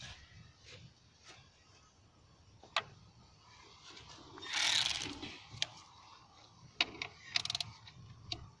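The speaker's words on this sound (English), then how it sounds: "Let me get my ratchet." A ratchet wrench tightening coil pack bolts on a Mercedes ML W163 engine gives sparse clicks and short rattling bursts, close and moderately loud over faint background noise, with no talking.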